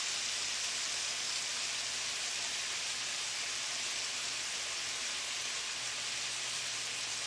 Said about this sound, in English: this is sizzling